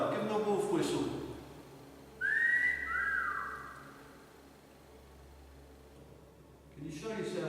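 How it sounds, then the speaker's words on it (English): A person whistles a rising then falling wolf whistle inside a prison hallway, a clear, fairly loud single whistle between stretches of talk. "Give them a wolf whistle."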